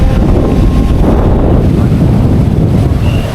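Steady wind roars and buffets the microphone in a continuous low rumble at a mangrove area in Boracay, with no voices present.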